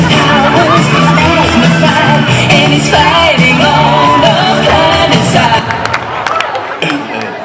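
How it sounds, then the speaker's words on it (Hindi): A loud evening-event crowd at NUJS Night 2014 applauds and cheers as a guest is welcomed, with whoops and shouts over dense clapping that thins slightly toward the end. "जोरदार ताली बजाएं."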